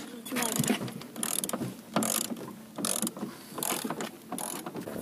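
Old bolts being unscrewed from a go-kart bumper, with a ratchet or wrench giving repeated bursts of clicking metallic turning, close and fairly loud, with short pauses between strokes.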